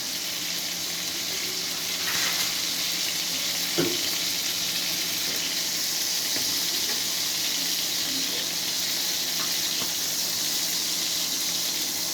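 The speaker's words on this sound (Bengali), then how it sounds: "চিংড়িগুলো ভাজা হয়ে গেছে এবার চিংড়িগুলো আমি একটা বাটিতে উঠিয়ে নিব" Unpeeled shrimp fry in hot oil in a pan, a steady, loud, continuous sizzle throughout with a faint clink of a utensil partway through.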